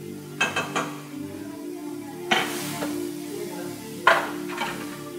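Onions and butter caramelize in a pot for Ethiopian doro wat chicken with fenugreek and cardamom, giving a low, steady sizzle punctuated by three or four clanks and scrapes of a utensil against the pot, close by.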